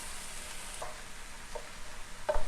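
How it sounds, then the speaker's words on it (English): Two blocks of tofu crumbled with a spatula in a frying pan, a steady soft sizzle broken by a few scraping strokes and a light clack of the spatula near the end. "I'm just using my spatula to keep breaking up the tofu into smaller crumbles"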